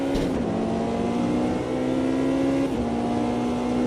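A race car engine held on throttle in a racing game, a steady loud buzzing drone with a slight dip and pitch shift midway, continuous and close with no talk.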